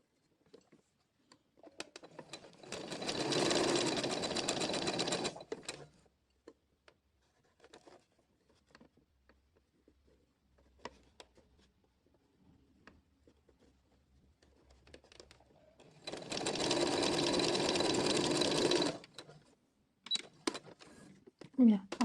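A sewing machine stitches fabric in two sustained bursts of rapid mechanical whirring, close and fairly loud, separated by quieter handling noises and a voice talking.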